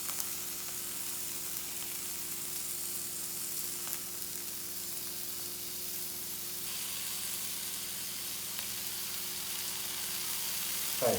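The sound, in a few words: food sizzling in a fry pan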